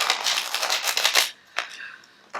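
A deck of tarot cards is riffled and shuffled by hand, a close, loud papery flutter lasting about a second, then two brief, crisp card snaps after short pauses.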